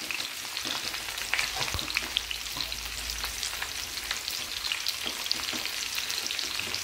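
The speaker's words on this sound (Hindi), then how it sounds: "इसके अंदर हम जीरा और कलौंजी दोनों को एक साथ डालकर फ्राई कर लेंगे" Cumin and nigella seeds sizzle and fry in a pan beside potatoes and onions, a steady close crackle with small pops and occasional stirring scrapes, no talking.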